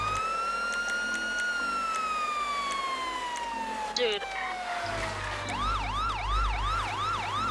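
Emergency vehicle sirens in the video game GTA 5 during a FiveM roleplay: a long, slowly falling siren wail gives way to a rapid yelping siren, loud and close, with a brief spoken exclamation and engine rumble underneath.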